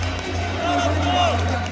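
Slovak fans cheering at a Winter Olympics ice hockey game, a broad arena crowd roar with whistles, sustained and loud for a brief moment over a low hum.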